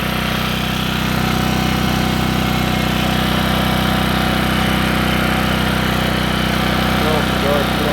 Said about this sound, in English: We're going to try a load on it. Voltmeter's reading 110. Right on the money. Give me that grinder, we'll try that, Jake.